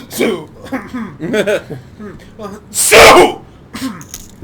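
A single loud sneeze bursts out about three seconds in, amid casual talk between people discussing a football wildcard game.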